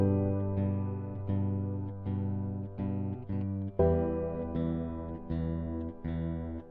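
Electric guitar with effects panned left and right layered over sustained piano chords, playing a steady chordal pattern with regular rhythmic re-attacks and a fuller change partway through; instruments only, no voice.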